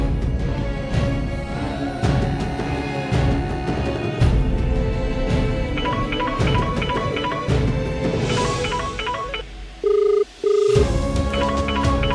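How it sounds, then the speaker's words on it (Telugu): Repeated electronic telephone ring bursts sound over music and ambient noise in a TV serial scene, starting softly and becoming a loud, clear double-tone ring near the end. "ఈ ఫోన్కి ఎవరు ఫోన్ చేస్తున్నారు?"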